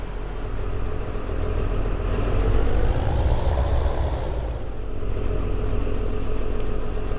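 A farm tractor drives back to the farm after hauling a muck spreader, its engine a steady, loud, close rumble that swells briefly midway, with no voices.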